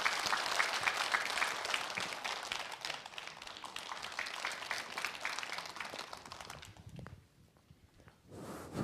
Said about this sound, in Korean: 큰 박수로 맞아주시기 바랍니다.